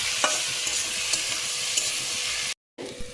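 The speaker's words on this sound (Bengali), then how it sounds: "সব মশলা খুব ভালো করে ভেজে নিতে হবে, পেঁয়াজটা মজে যাওয়া পর্যন্ত" Chopped onions with spices frying in hot oil make a steady, close sizzle, with occasional light scrapes of a stirring utensil. It breaks off abruptly for a moment and then resumes.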